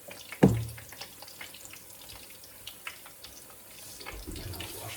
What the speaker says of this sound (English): So then I'll wash my hands.